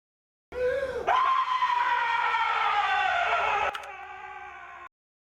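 A man screams at length in a harsh, distorted way in a recording. The scream is loud and sustained, rising sharply after a brief opening cry, then ending abruptly, and no one talks over it.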